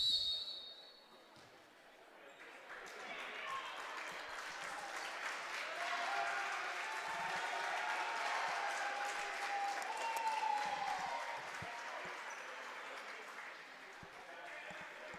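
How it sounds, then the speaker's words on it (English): Crowd applause and cheering fill a basketball gym as a player comes off the floor, a steady, fairly loud wash lasting most of the stretch, with a few faint shoe squeaks and an announcer's voice underneath. "Big applause for Bowling here as he comes off the floor."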